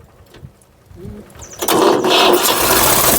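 A tractor engine cranks and catches, with soft knocks and rustling at first and then a loud, steady running roar from about halfway through.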